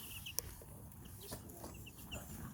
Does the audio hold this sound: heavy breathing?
no